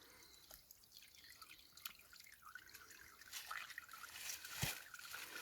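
Water from a natural spring fountain drips and trickles faintly, with scattered irregular drops over a soft background wash and no voices.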